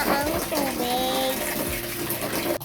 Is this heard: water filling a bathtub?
yes